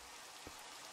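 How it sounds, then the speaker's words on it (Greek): Steady rain falling in the Minecraft video game, a continuous broadband hiss of drops with a brief louder low thump partway through, no talking. "Μέσα στη βροχή κιόλας."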